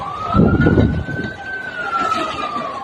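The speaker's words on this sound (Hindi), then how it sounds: "सूचना पर फायर ब्रिगेड की कई गाड़ियां मौके पर पहुंची और आग बुझाने की कोशिश शुरू हुई।" Fire brigade vehicles arrive at a blaze in slum huts beside a Mumbai railway track, a loud wailing siren sweeping steadily under rumbling traffic and engine noise.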